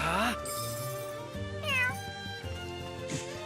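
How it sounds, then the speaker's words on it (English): Cat in The Adventures of Elliot video game meowing with several sliding, wavering meows spread over a few seconds, set against steady game music. "Meow to you too."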